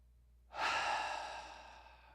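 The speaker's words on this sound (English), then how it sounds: "Just a couple big rounds of breath." One long, deep breath during a yoga session, a soft airy exhale that starts suddenly and fades slowly, close and quiet with no talking.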